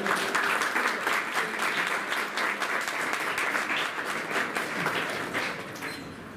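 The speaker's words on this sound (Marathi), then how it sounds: "जोरदार टाळ्या झाल्या पाहिजे." Sustained, loud audience applause at a Marathi literary society felicitation ceremony, dense clapping from a large crowd that fills the whole stretch and eases slightly toward the end.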